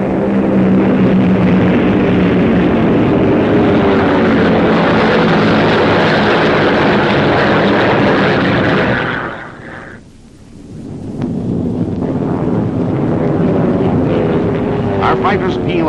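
WWII fighter planes flying into battle, a loud, dense roar of aircraft engines that swells steadily, drops away briefly, then returns, with wartime narration spoken over it.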